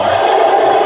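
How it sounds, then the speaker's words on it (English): A capacity crowd in the wrestling video game Def Jam 2K17 cheers loudly, a dense, continuous roar of voices for a brief moment. "This capacity crowd is beside itself."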